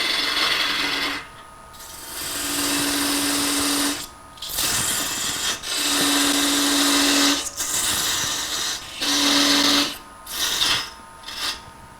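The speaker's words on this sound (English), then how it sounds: "Putting a little tenon on here to fit my chuck" A wood lathe spins a vase blank while a parting tool cuts a tenon, giving repeated bursts of rough scraping and hissing cuts over a steady motor hum, with short pauses between passes.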